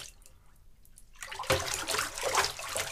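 A ThruNite Catapult V5 flashlight is plunged into water: quiet for about a second, then a sudden splash and a churning, bubbling burst of sloshing water that continues loudly and close.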